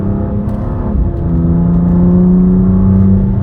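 Inside a 2019 BMW M2 Competition under hard acceleration, a loud, steady engine drone climbs in pitch after a brief dip around one second, building into a sustained close rumble.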